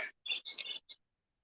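Blackbird song outdoors in nature, a few short bright warbling phrases followed by a brief high note, fairly faint and heard alone without talk.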